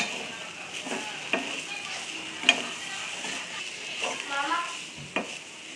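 Fresh coriander is sautéed and stirred into a coconut and green chili chutney, with a soft sizzle and a few light spoon taps against the pan, close by.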